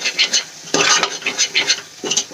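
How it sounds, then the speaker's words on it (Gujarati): Spices being mixed and sautéed in a pan for an onion vegetable dish made in a pressure cooker: rhythmic spoon scrapes and clinks against the metal over a faint sizzle, close and clear. "હવે બધા મસાલાને સરસ રીતે આપણે મિક્સ કરીને સાંતળી લઈશું।"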